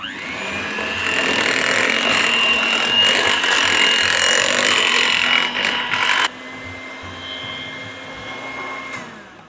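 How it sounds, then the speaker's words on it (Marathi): Electric mixer blending mascarpone with about 200 grams of whipping cream for an eggless tiramisu, a loud steady motor whine running continuously before cutting to a quieter hum and stopping near the end. "हे पण आपल्याला आता ब्लेंड करायचं आहे."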